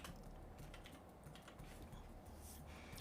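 Quiet, steady clicking of keys on a computer keyboard as a word is typed, a run of light taps with no talking.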